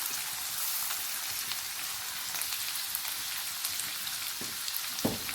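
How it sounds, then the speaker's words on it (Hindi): Onions browning in a karahi over moderate heat for prawn karahi masala, a soft, even sizzle with light crackles and a couple of brief clinks near the end, close and without speech. "इसमें पहले हम प्याज ले लेते हैं और प्याज को हम ब्राउन कर लेंगे।"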